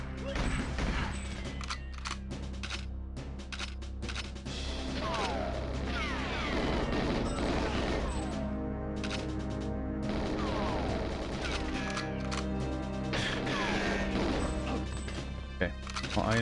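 Gunfire and explosions from the 1997 video game GoldenEye 007 form a dense, continuous clatter of shots, crashes and blasts that rarely lets up.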